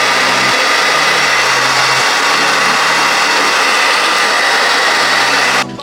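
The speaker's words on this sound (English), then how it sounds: "take your blow dryer, same thing" A blow dryer runs on wig lace during a wig install, a loud, steady whirring roar close to the mic with a slight pulsing hum beneath, cutting off abruptly at the very end.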